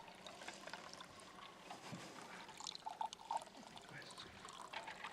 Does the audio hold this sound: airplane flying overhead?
no